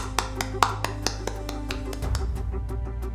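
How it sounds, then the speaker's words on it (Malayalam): A few sharp, separate hand claps ring out in a scene, one at a time over a steady low hum, with louder, busier claps near the start before fading into the background sound. "സന്തോഷം കൊണ്ട് കൈയടിച്ചതാ"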